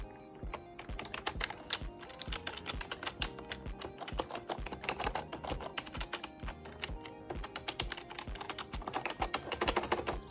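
Rapid, steady typing on an older, thick split ergonomic computer keyboard, its keys clacking close to the microphone in a dense, continuous patter with slight swells in loudness.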